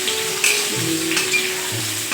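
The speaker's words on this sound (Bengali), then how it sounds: "বড়িটা দিকে ভাজা হচ্ছে" Lentil dumplings (bori) frying in oil in a pan while a fish curry is made, giving a steady close sizzle with faint scraping stirs, no talking.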